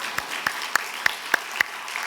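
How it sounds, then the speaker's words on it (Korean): A church congregation claps during a Wednesday prayer service, a brief run of sparse, evenly spaced claps sounding alone in a reverberant hall. "그 하나님께 영광의 박수로 드립시다"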